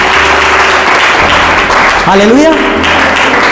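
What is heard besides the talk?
congregation clapping hands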